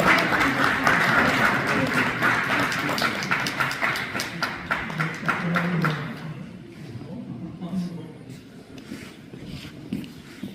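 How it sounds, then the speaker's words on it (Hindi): An audience claps at an evening event honouring elders, steady dense applause that thins and fades in the second half while someone speaks over it on a microphone. "अपनी तालियां ना रुकने दीजिए।"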